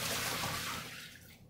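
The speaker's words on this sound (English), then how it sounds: "I'm gonna empty out the water." Water being poured out of a lab container after a can crush experiment, a brief rushing splash that starts loud and tapers off within a second or so, close by.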